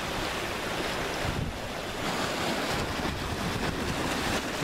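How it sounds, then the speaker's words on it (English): Ocean waves on a shore in Turkey during a winter holiday, a continuous broadband wash of surf mixed with wind buffeting the microphone, steady and fairly close with no voices. "Nice waves coming right now."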